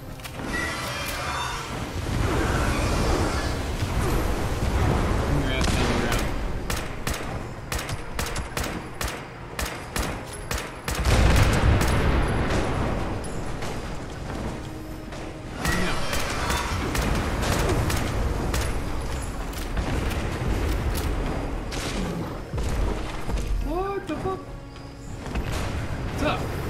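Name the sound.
gunfire in Fallout 76 video game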